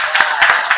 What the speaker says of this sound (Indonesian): Sekali lagi tepuk tangan untuk kelompok Nadila.